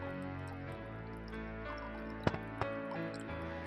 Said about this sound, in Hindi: पानी आ रहा है पहाड़ों से